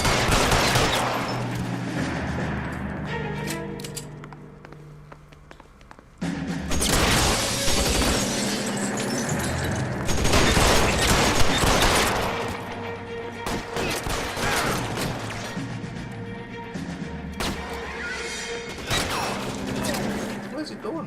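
A drawn-out gunfight in L.A. Noire, with repeated gunshots and rattling bursts layered over a continuous dense backdrop of game sound and music, loud throughout the long stretch.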